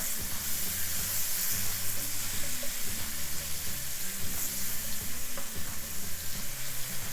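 Lobster cooking in a pan for a creamy garlic lobster Alfredo, giving a steady, close sizzle and frying crackle with an undertone of stirring and scraping throughout, no voices.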